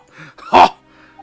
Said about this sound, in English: Father was coughing pretty badly